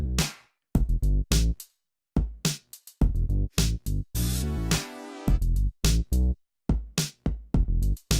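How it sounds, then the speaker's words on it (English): Punchy synthesized brass stabs play short rhythmic chords separated by silences, with one longer held swell near the middle; no voices. "Maybe with this synth brass, it'd sound like this."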